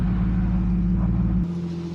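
A car engine rumbling low and steady under applied gas, close and loud, with a deep drone that drops slightly in pitch toward the end; no talk.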